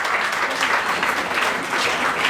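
An audience applauds an app built by Nigerian developers at its launch event, with dense, steady clapping that stays loud and continuous throughout and no voices over it.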